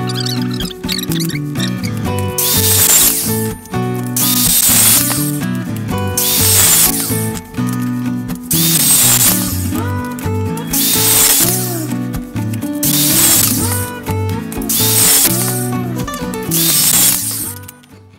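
A power tool in a home workshop cuts 12 cm pieces for a tool panel in loud repeated bursts of harsh cutting noise over a humming motor, about seven cuts in a steady rhythm.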